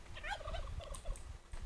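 An Alpha Turkey in the video game ARK: Fjordur gobbles in a quick, rattling burst of warbling calls, close and clear with no speech.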